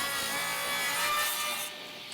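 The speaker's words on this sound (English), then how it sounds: "bring it over to the table saw, and hopefully I can get a decent bevel on this" A table saw blade bevel-cutting a wooden drill press table, a steady loud broadband whine of blade through wood held for about two seconds before dropping slightly as the cut finishes, with no talking.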